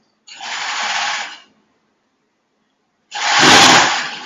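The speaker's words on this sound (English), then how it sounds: "I'm going to put a gathering stitch at the top edge of my green first" Sewing machine stitching a gathering stitch along the top edge of green tutu fabric, two separate bursts of fast mechanical whirring, each about a second long, with a silent pause between them.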